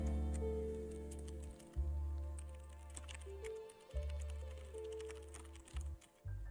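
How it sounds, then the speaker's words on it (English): Clicks from a computer keyboard sound in quick irregular bursts over a low game hum, the typing faint and close. "You guys hear the keyboard?"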